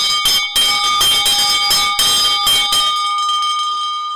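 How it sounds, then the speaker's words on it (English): A bell is struck rapidly and repeatedly at close range, bright and loud, then its ringing tone fades out after the strikes stop. "I want to ring this bell"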